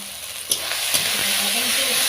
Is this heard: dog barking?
no